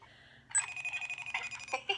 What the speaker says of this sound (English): My iPad is ringing at me.